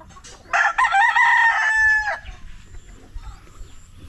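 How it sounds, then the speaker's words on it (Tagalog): A rooster crows loudly and close by at a farm's chicken coop, one long drawn-out call lasting about two seconds, followed by quieter clucking and low rustling from the fowl. "Ang gaganda ng manok."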